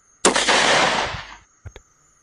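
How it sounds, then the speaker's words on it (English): A rifle shot rings out as a sharp, loud blast with a long, rolling decay of about a second, followed by two short, fainter cracks, with no talk. "freezes at the sound of a rifle shot."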